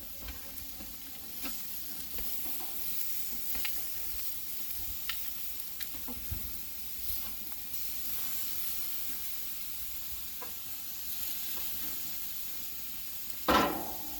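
Steaks sear in a hot pan as their fat melts, producing a steady close sizzle with small crackles throughout and a louder hissing flare near the end.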